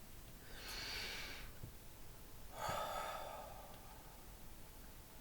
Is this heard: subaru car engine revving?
no